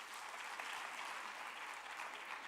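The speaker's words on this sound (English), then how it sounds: "Let us all clap hands for her." Steady, faint applause from an audience at the official opening of the National Arts Festival 2022, a continuous wash of many hands heard from a distance.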